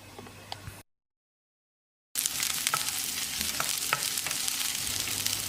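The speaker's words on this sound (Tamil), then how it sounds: "அளவான தீயில ஒரு 2 நிமிஷம் லேசாக செவந்து வர அளவுக்கு வதக்கிடலாம்." About twenty small onions sauté in oil in a pan over medium heat, giving a close, bright sizzle with stirring clicks; a short stretch of silence breaks it before the frying returns louder.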